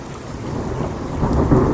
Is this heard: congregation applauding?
no